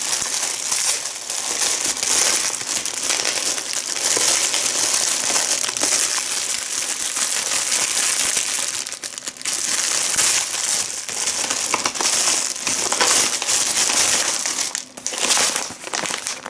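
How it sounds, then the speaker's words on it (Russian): A plastic bag of coconut flakes crinkles and crackles loudly and continuously as it is worked open up close, with short pauses near the end. "Сейчас я тут пакет как-нибудь вскрою."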